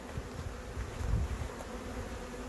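Honeybees hum steadily at a hobby beekeeping apiary in Jangsu, North Jeolla, Korea, a close, continuous insect drone filling the whole moment, with a brief swell in the middle and no talking.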